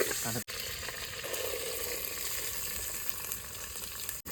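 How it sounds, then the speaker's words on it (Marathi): Onion frying in oil in a pan for biryani, a steady close sizzle and crackle that continues throughout without pause. "कांदा लाल भाजून घ्यायचा"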